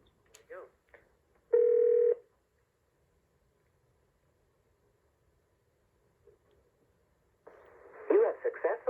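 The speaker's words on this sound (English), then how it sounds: "I started dialing the regular testing number" Touch-tone dialing on an early-1990s AT&T 1506 desk phone with cassette answering machine: a few short keypad beeps, one sustained tone burst, then a quiet gap before a recorded voice comes through the line.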